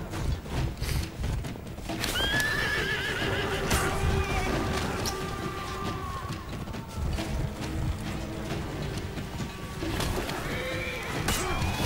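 Horses in the For Honor video game gallop with rapid clip-clopping hooves while several loud whinnies rise over the action, amid battle noise and chaotic game sounds throughout.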